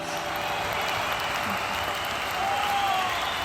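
A theatre crowd applauds in a steady, dense wash of clapping that holds for several seconds without a break.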